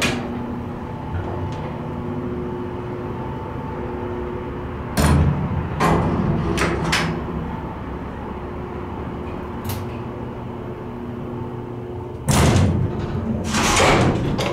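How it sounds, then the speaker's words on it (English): A Salem traction winding drum freight elevator with CJ Anderson components hums steadily as its motor runs, with occasional loud clunks and thumps from the car and its doors. "Listen to the motor."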